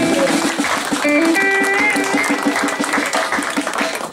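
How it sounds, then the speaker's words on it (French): A church congregation claps loudly and steadily, with dense, sustained applause filling the room while an organ or keyboard holds chords and a regular beat runs underneath. "Acclamons très fort pour la gloire de Dieu."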